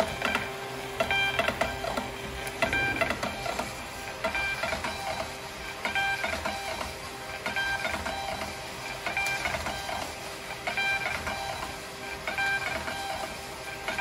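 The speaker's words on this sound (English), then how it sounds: "Love this new little printer." A small printer runs off packing slips, a steady close mechanical whirring and rhythmic feeding clatter that keeps going without pause, no talk over it.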